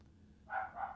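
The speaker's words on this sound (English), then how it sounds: "my dog again" A terrier barks in the distance, two short muffled yaps in quick succession, rising over a low steady rumble of a train cab in a railway simulator game.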